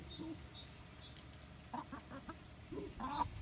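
Hens cluck in short bursts near a parked camper van at a free camping spot among vineyards, soft and fairly close against a quiet outdoor background, with no voices.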